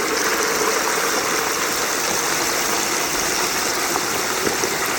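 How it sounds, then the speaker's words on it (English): Hot oil in a deep fryer seethes and bubbles steadily as a whole turkey is slowly lowered in, a dense, continuous frothy hiss with crackling bursts throughout, close and loud with no talking. "See how that oil is bubbling up?"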